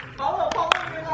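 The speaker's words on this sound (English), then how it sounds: "Follow the claps." Two sharp hand claps, close by, ring out over ongoing conversation to guide a blindfolded person toward a pool.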